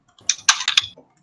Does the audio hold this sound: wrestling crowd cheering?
no